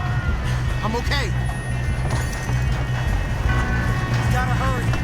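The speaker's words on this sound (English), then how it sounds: "We have to stop this train." A steam-era train runs steadily in the Red Dead Redemption 2 video game, its loud continuous rumble mixed with galloping hoofbeats while characters shout and talk over it.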